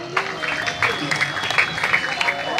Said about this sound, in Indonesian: Kasih tepuk tangan santri.